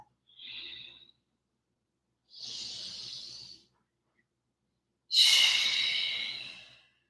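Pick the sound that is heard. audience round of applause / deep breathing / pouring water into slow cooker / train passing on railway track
deep breathing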